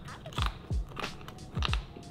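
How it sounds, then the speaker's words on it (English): Crisp bacon is bitten and chewed close to the mic in several sharp crunches, about four or five bites spread over two seconds with quiet pauses between. "Mmm, perfect crunch with my bacon"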